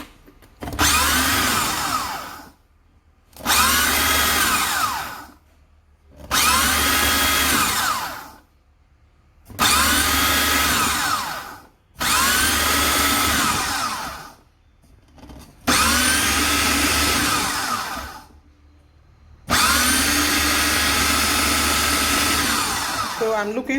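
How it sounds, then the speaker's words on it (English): A food processor mixes Nigerian cake batter with evaporated milk in seven loud whirring bursts of a few seconds each, separated by short pauses. "So right now I'm going to mix with a food processor before adding the dry ingredients."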